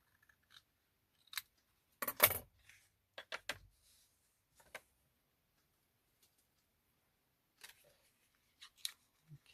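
Scissors trimming paper for an ephemera craft piece: sparse, crisp snips come in short clusters of one to three cuts, close and clear against near silence.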